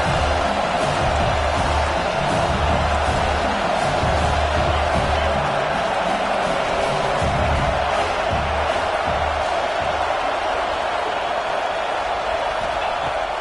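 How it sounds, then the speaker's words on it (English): Simulated stadium crowd in a PS5 college football game, a dense continuous roar of cheering fans on a big third down, steady and loud throughout with faint talk beneath. "Big third down as the crowd gets behind this defense."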